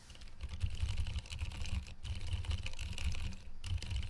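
Quiet, steady typing on a mechanical keyboard fitted with GMK Alter keycaps, a bouncy clatter of keystrokes in uneven bursts with brief pauses, fairly faint and close.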